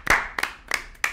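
Hands clap in applause, four sharp claps at an uneven pace, close and loud, with no talk over them.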